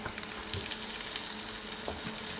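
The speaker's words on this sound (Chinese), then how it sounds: "表皮抹油，盖上盖子，小火烙制，同样4分钟。" A meat-filled flatbread, its surface brushed with oil, pan-fries under a lid on low heat, giving a steady, soft sizzle with no voices.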